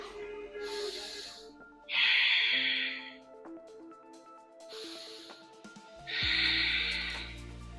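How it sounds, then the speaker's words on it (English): Ujjayi breathing during a challenging vinyasa yoga flow, two long audible breath cycles with breathy hissing swells, close and fairly soft, between quieter stretches. "Use that Ujjayi breath."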